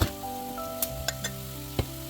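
Potato pieces sizzle steadily in hot oil in a pan, a close continuous frying hiss with a few sharper pops and crackles scattered through.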